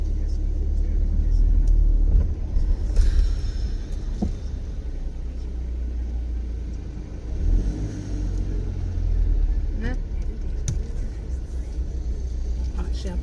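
Car rolling slowly into a parking area, a low engine rumble that swells and eases, with brief clicks and knocks along the way.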